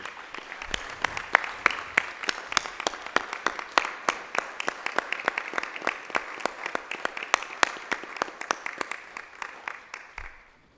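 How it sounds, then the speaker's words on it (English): A small group applauds at a county board of commissioners meeting, crisp individual claps in a brisk, steady patter that carries on for about ten seconds before dying away. "to give y'all a round of applause because of the effortless work that y'all continue to do"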